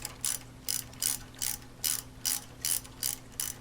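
A swivel-head ratchet tightens bolts that cut their own threads while extra airflow is routed to a radiator after a hydraulic fan delete, giving about nine evenly spaced, close, crisp pawl clicks with no talk.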